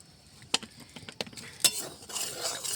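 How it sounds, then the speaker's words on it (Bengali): Semolina being stirred and fried in a wok, with scattered metallic scrapes and clinks of a spoon against the pan over a soft sizzle, a few sharper knocks standing out. "সুজিটা এখন আমি কড়াই ভাজার জন্য ঢেলে দিলাম"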